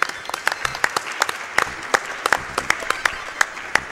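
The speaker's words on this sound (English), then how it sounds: "let's go ahead and do a round of applause for that" Round of applause from an audience during a charity speedrun marathon event, steady close clapping with sharp individual claps standing out throughout.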